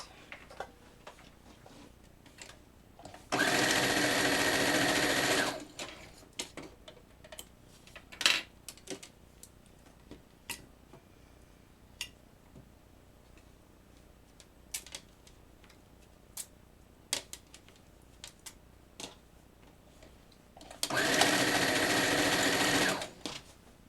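Sewing machine stitching pieces of a Triforce mini quilt, running in two steady bursts of a few seconds each, a rapid mechanical whir with small clicks and handling sounds in the quiet gaps between.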